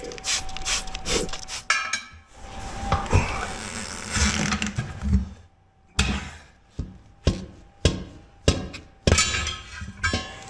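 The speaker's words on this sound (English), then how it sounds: "good old hammer." A hammer striking a tire to seat it back onto the wheel, with sharp metallic blows and clanks: first a busy stretch of clatter, then a series of separate, evenly spaced hits ending in a louder flurry.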